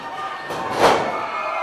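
An arena wrestling crowd cheers, a swelling roar that peaks briefly in the middle over a steady background of noise.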